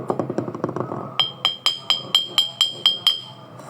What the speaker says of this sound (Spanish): que no tiene nada de agua suena más agudo